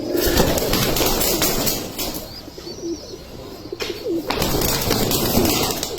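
Red Turibaz roller pigeons cooing close by in repeated low throaty bursts, with a brief flutter of wings.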